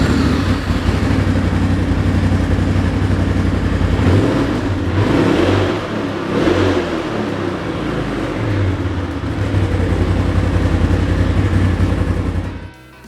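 Polaris RZR Turbo with a Power Tune XTO muffler and 1.5 inserts idles steadily, then revs in several swelling bursts before settling back, with a deep exhaust drone throughout and no talk.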